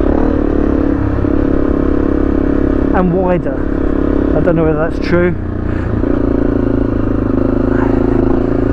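Honda CRF250L dirt bike engine running steadily throughout, a continuous low drone with wind rush as it is ridden off-road, while someone talks over it.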